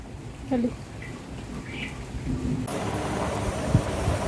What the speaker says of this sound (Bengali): ছিপছি ছিপছি ছিপছি করে বৃষ্টিই পড়ছে